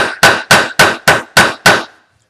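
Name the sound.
hammering with the flat side of a hammer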